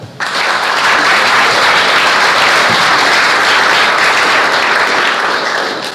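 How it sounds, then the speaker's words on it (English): Loud, sustained audience applause fills a Scottish land festival hall for speaker Linda Gillespie, a dense, steady wash of many clapping hands that starts abruptly and holds for several seconds. "big round of applause for Linda"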